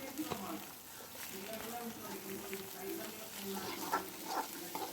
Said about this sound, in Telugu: కలుపుతూ ఉండాలి, ఎందుకంటే మాడిపోతుంది కింద.